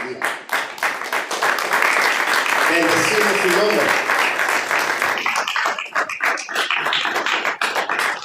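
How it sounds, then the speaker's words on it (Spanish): A congregation applauding during a religious service, loud sustained clapping from many hands filling the space for several seconds, with a voice speaking briefly over it partway through. "Dale un fuerte aplauso a Hashem."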